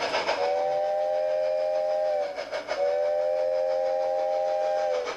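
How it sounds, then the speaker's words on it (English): Narrow-gauge model train on a backyard garden railway, sounding two sustained whistle blasts separated by a brief gap, loud and near, with faint rolling rail noise underneath. "There were once trains like this one running on narrow tracks all through the mountain ranges of the West."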